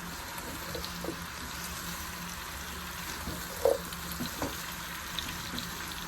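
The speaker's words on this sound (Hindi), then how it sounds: "1 से 2 मिनट सब्जियों को अच्छी तरीके से भूनेंगे।" Mixed vegetables fry in a pan during home cooking, giving a steady soft sizzle with occasional light clicks of stirring, fairly quiet and close with no talk.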